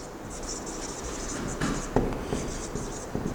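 Pen or chalk writing during a physics lesson on gravitational potential energy: soft, faint scratchy strokes run steadily throughout, with a few light taps and no talking.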